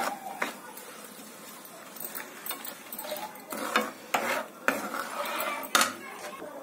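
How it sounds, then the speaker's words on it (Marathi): A chili, garlic and salt mixture stirred in a pot, with metal spoon scrapes and clinks against the vessel, irregular strokes growing louder and sharper toward the end, close by with no talking. "ह्याला चांगलं अशा प्रकारे हलवून घ्यायचं"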